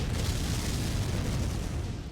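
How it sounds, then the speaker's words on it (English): Mech going critical and exploding in MechWarrior 5: Mercenaries, a deep, sustained rumbling blast with a crackling, roaring tail that stays loud and dense for about two seconds. "Critical explosion imminent."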